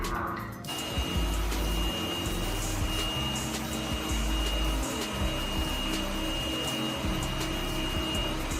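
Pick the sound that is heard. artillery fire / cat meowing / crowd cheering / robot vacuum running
robot vacuum running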